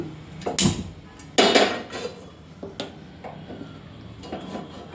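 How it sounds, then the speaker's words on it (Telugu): A pan is set down on a gas stove with a few clattering metal knocks and scrapes, loud up close, followed by quieter clicks and taps as the burner is lit. "బాండి పెట్టుకొని గ్యాస్ వెలిగించుకుందాం"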